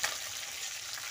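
Bhola fish fries in oil in a pan, giving a soft, continuous sizzle that stays faint and even through a brief moment.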